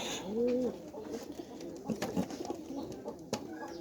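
Soft, low pigeon coos close by from two newly caught pigeons, a rounded call near the start followed by a few quieter coos and rustling in a quiet space.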